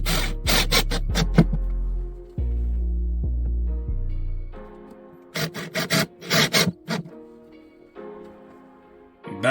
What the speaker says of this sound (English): Now drill in the screws.